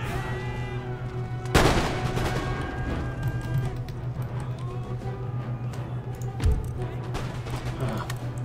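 Musket volley fire in the Empire Total War video game: sharp, loud gunfire bursts near the start and again later, over a steady game soundscape of distant battle noise.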